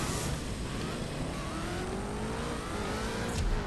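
A truck in the racing game CSR2 revs hard and runs steadily through its gears, the engine note rising in long sweeps, loud and continuous with no talking.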